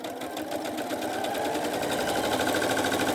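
A Janome Skyline S7/S9 sewing machine runs a programmed stitch, its needle chattering in a fast, steady rhythm that stays loud and close throughout with no talking.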